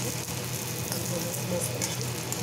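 Eggplant fries in a pan for a Maharashtrian curry, a continuous close sizzle with faint bubbling, while someone talks over it throughout.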